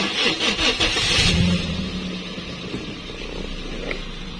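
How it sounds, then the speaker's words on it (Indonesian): A Toyota Vios, an ex-taxi limo model, cranks with the clutch pressed and its engine catches, revving up loudly at close range before settling into a steady idle. "Injak kopling baru dia di start."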